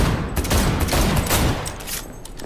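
Rapid automatic gunfire rattles in dense, overlapping bursts during video game play, loud and close, continuing throughout without a break and with no voices.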